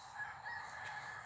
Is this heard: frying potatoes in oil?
no